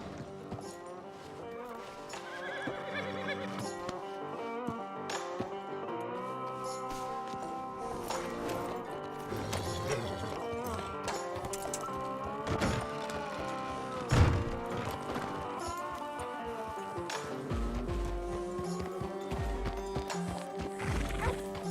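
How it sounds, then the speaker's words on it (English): A horse in a roleplay video game clip-clops along with steady hoofbeats and gives neighs and snorts, set against a busy layer of game music and effects. "Love the horse riding in this game."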